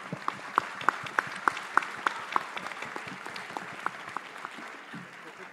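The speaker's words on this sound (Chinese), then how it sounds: "我们为马来西亚未来的腾飞给他一个掌声" An audience at a university debate championship final claps, faint and distant, with sharp individual claps standing out in a loose rhythm before tapering off.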